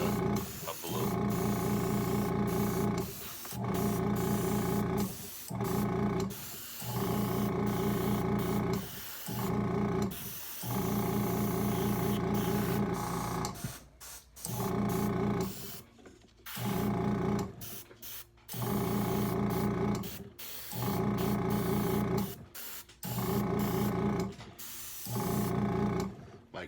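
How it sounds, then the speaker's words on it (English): An air compressor drives spray painting of a model figure, with loud mechanical hissing bursts that start and stop in a regular rhythm, close by. "we're going to do a little more spray painting here. That darn compressor."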